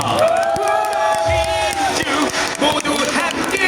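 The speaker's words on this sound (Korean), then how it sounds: "큰 박수 부탁드립니다." Outdoor election rally crowd in Paju near Geumneung station cheering and shouting, a loud dense roar with whoops and a raised voice carrying over the top, clapping mixed in beneath.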